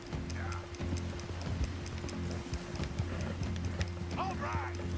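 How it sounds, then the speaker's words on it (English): Horse hooves clip-clopping in the Red Dead Redemption 2 video game, a steady rhythmic trot at moderate distance over a low rumble, with brief voice snippets and a whinny near the end. "These horses sure are hard to control."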